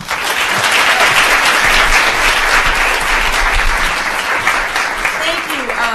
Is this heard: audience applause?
yes